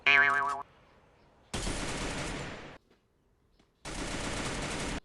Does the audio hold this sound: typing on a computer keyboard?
no